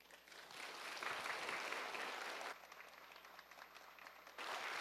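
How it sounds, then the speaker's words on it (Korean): Church audience at a parents' prayer meeting applauds in welcome of a guest professor, a warm, sustained round of clapping from a fair-sized crowd, heard from some distance. "우리 교수님 나오실 때 환영의 큰 박수로 맞아주시기 바랍니다"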